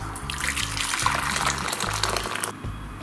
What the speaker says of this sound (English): pour some boiling water into it